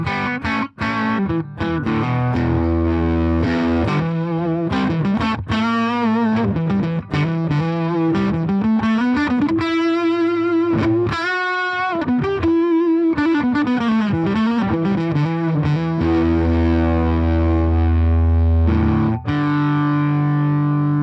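A G&L Legacy electric guitar played through a 1968 Fender Super Reverb silverface amp with a reconed original CTS speaker, volume on 9 and reverb on 3: loud, sustained overdriven chords and melodic lines ringing continuously for about twenty seconds.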